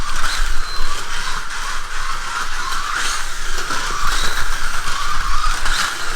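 A Lamborghini Gallardo Stage 2 engine roars steadily at high revs during laps, with a constant mechanical whine and road rumble, rising and falling slightly in pitch.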